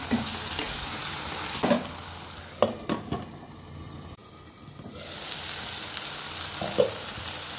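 Chicken frying in a pan sizzles steadily while a utensil stirs it with a few scrapes and knocks, and the sizzle dips briefly before returning at full strength.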